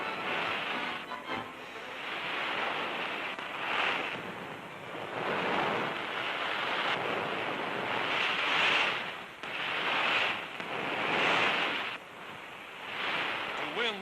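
Large ocean breakers crash and roar continuously as surfers on rubber surfboards ride in at top speed during a surfing contest, the surf steady and loud with wind gusting over it.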